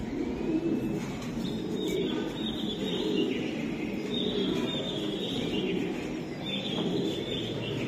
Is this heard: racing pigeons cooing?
yes